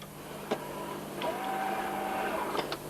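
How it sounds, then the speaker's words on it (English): A robot's tool on an automated engine-block assembly line feeds screws by air through its hose into the holes of an upside-down block, one at a time, giving a steady mechanical whir with sharp clicks and a long sustained tone. "Screws are forced by air through the hose of the tool held by the robot into the holes of the block, one at a time."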